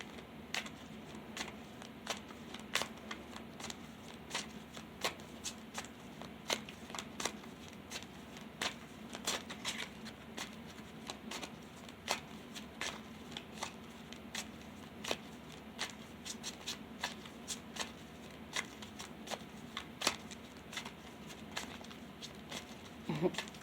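Tarot cards are shuffled during a reading, a run of soft, rapid patters and light flicks of card stock repeating steadily and quietly close by, with faint speech in the background.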